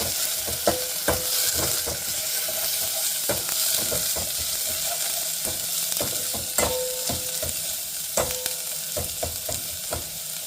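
Onion and green chilli fry in a pan until golden brown for mushroom soup, a continuous sizzle broken by repeated knocks and scrapes of a spoon stirring against the pan.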